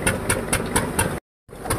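A tractor engine idles on a farm with a steady, close chugging rhythm of regular beats, briefly cut off by a gap before the same loud pulsing resumes.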